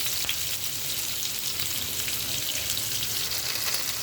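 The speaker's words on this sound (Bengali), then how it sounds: "এই তেলে পেঁয়াজ দিয়ে দেব, বেশি করে কাঁচামরিচ দিয়ে দেব" Onion and plenty of green chillies hissing in hot oil just used for frying rohu fish, a dense and steady close sizzle with no talk.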